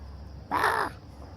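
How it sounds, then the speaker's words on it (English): A single harsh caw from a crow on a New York City street in Manhattan, one loud close call of about half a second over steady low traffic rumble. "What kind of bird is that?"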